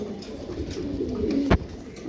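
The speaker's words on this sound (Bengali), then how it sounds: "এখানে একজোড়া কবুতর আছে জিরাগলা কবুতর" Giribaz pigeons coo close by, a soft low throaty coo with a sharp brief click or flap partway through, over quiet room noise.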